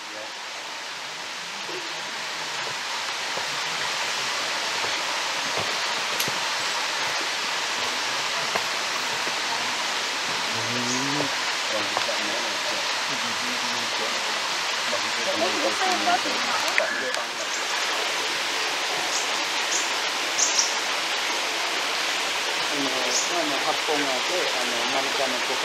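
The river at Kbal Spean, with carved lingas on its bed, rushes in a steady, broadband wash of flowing water that runs continuously and fairly loud, while voices talk intermittently over it.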